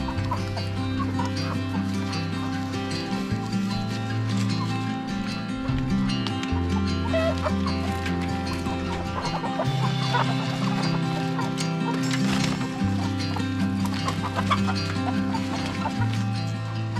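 Chickens cluck in a coop, repeated short calls from nearby hens layered over a steady low drone and mixed background sounds.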